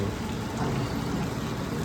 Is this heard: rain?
yes